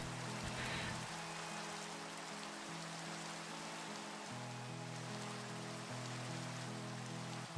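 Steady rain hissing across a Minecraft world, a constant broadband wash with game music tones layered underneath, no voices.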